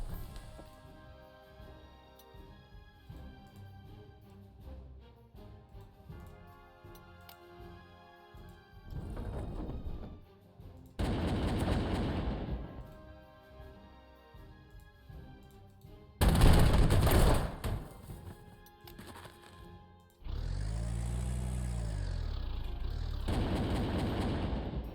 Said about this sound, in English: Let's use this artillery.